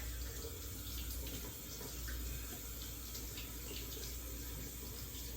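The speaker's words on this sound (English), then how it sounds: "Let me just wash my hands real quick" Hands are washed under a running kitchen tap, a steady rushing splash of water that goes on unbroken at moderate loudness.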